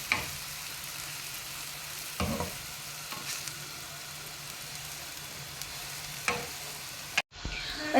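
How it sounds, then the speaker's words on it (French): Bread cubes soaked in olive oil sizzling steadily in a frying pan as a spatula stirs them, a continuous crackle broken by a few scraping strokes, close, ending with an abrupt cut. "Il faut remuer sans écraser les pains de mie parce qu'ils sont mouillés à cause de l'huile d'olive"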